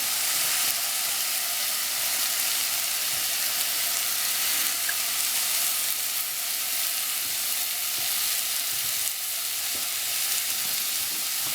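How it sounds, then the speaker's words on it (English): Rice sizzles loudly in a pan with butter and cinnamon for pilau, a steady close hiss of frying with faint scrapes of stirring and no talking. "Now we're just going to add the rice to that"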